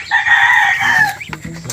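Ducks call close by: one long, drawn-out cry followed by several short, clipped quacks from young pet ducks.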